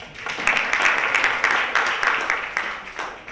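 A round of applause from an audience at a fintech business event, dense steady clapping that fills the room with slight surges, no voices over it.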